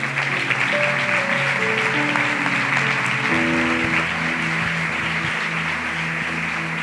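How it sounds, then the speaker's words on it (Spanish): A church congregation applauds at a Sunday service, steady broadband clapping throughout while sustained music tones, likely keyboard, play underneath. "Denle un gran aplauso a nuestro Rey."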